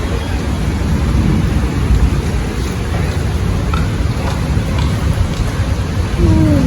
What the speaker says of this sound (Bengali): ঘুম থেকে উঠে দেখি রহমতে বৃষ্টি